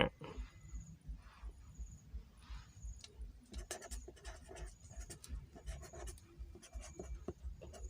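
Pen or pencil strokes scratch across paper as numbers are written by hand, soft close-up scribbling in short irregular bursts with brief pauses.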